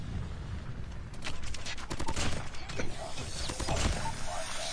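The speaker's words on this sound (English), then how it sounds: "Stop shooting!" Bursts of SMG fire in Call of Duty Mobile crackle in short, irregular volleys at moderate distance, mixed with mechanical clatter and game ambience.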